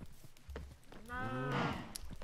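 A blocky farm cow in the Minecraft video game lets out a single drawn-out low moo with a wavering tone, fairly close and loud, with soft game footsteps and ambient clicks around it.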